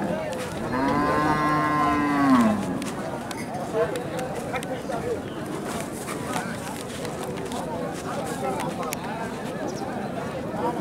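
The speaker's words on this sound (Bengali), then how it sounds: "পাণ্ডব জাতের গরু এটা" A Pandav breed cow lows once, loud and close, at a busy cattle market, followed by the crowd's chatter and movement all around.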